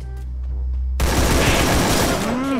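Gunfire from a first-person shooter match, landing a headshot kill: a quiet stretch, then a sudden loud burst of shots and explosive noise that fills the rest of the moment, with a brief rising tone near the end.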